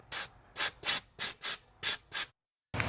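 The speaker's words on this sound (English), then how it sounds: "I'm just gonna get an air hose and blow out all the coolant and stuff" Short blasts of compressed air from an air hose clear coolant off a 2000-2006 GMC Yukon engine. Seven quick, loud hissing bursts come in a steady rhythm, then a brief silence before another burst begins.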